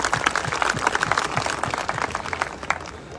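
A celebration-event audience claps enthusiastically, with dense, continuous applause filling the whole stretch at close range and steady loudness.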